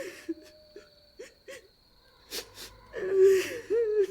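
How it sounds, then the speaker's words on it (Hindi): A woman sobs and whimpers in short, breathy gasps that swell into drawn-out wailing cries, fairly close and alone. "तभी किसी औरत के रोने की आवाज सुनाई देती है।"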